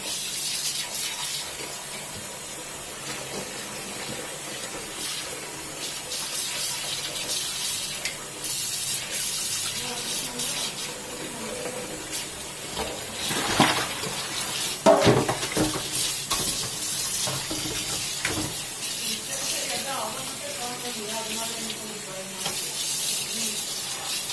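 Dyed yarn being rinsed under a running tap in a sink, a steady broadband rush of flowing water with splashing and squelching as the wet fibres are handled, close and continuous throughout, with no speech.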